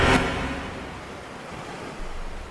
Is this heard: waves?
yes